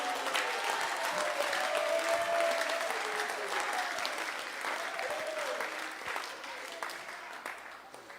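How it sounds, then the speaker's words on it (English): Church congregation applauding at a Samoan service led by a bishop, dense sustained clapping from a large crowd with faint cheers and voices mixed in, fading slightly toward the end. "Give him a big clap of it tonight."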